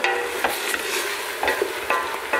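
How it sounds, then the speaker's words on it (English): Spaghetti bolognese sauce with a cup of red wine added, cooking off in the pan: a continuous close sizzle broken by a regular series of spoon scrapes and stirring strokes. "I'm just adding in about a cup of red wine, and you just let that cook off."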